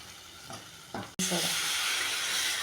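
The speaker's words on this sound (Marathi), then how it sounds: "आता छान परतून घ्या अंड्याला मसाल्यामध्ये." Eggs drop into hot oil and masala with a sharp burst of sizzling, then a loud steady hiss of frying continues as they are stirred, close by and without talk.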